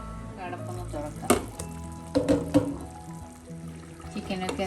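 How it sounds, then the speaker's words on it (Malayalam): Chicken curry bubbling in a pot, a soft simmering sizzle with a few sharper stirring or spoon knocks, fairly faint and partly under a person talking. "ചിക്കനൊക്കെ നല്ലോണം തിളച്ച് വെള്ളമൊക്കെ ഇറങ്ങാൻ തുടങ്ങിയിട്ടുണ്ട്."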